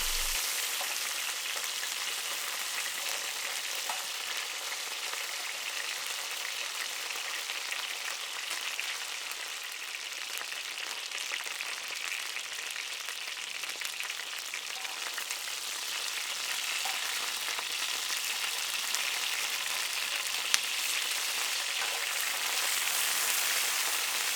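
Chicken pieces for an Italian cacciatora frying on an Indian tawa outdoors in an English garden, a constant, even, rain-like sizzle and spit close by, continuing unbroken with no talking.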